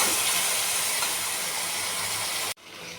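Ground spices with a little water added, frying in a pan, give a loud, steady close hiss that cuts off abruptly near the end.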